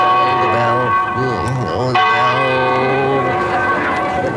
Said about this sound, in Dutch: Zag er jij ook die kerkklokken luiden?